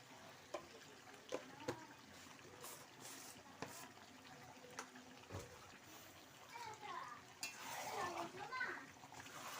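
Chicken curry meat being stirred and fried in a pan gives intermittent scrapes and clinks of a utensil against metal with soft sizzling, fairly quiet, while a person talks at times.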